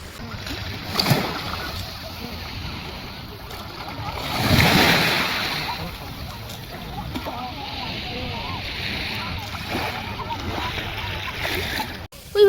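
Surf washing ashore on a beach in rolling surges, one wave swelling loudly midway, with splashing water and voices faintly mixed in.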